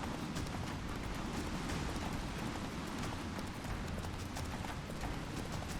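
Roach the horse galloping in The Witcher 3, a fast, steady drumming of hoofbeats that stays loud and continuous throughout, with no speech.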